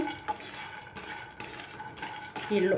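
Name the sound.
peanuts being dry-roasted and stirred in a pan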